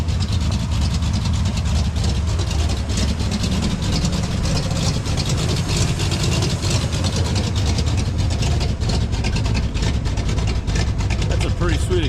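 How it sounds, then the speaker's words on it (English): A vintage British roadster with a Ford engine idles on a cold day, its exhaust giving a steady, dense, rumbling burble with rapid mechanical ticking layered on top. It stays close and continuous throughout with no pauses. "Pretty sweet exhaust, huh?"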